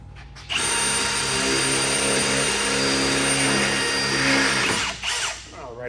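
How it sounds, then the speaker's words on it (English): A power drill bores the last hole in the frame of a Gen 1 Madjax X Series golf cart during a lithium battery install, whirring loudly and steadily for about four seconds before winding down. "Get this last hole drilled."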